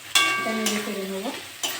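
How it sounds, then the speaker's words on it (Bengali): Tomato is stirred into frying pointed gourd in an oily pan, a soft scrape of the spatula with a light sizzle, close by, while a brief tonal voice-like sound passes over it. "এটা নেড়ে চেড়ে নেবো।"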